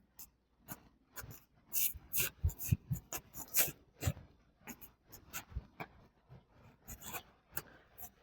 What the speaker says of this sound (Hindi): इसको एक बार हम इसको रब कर देते हैं।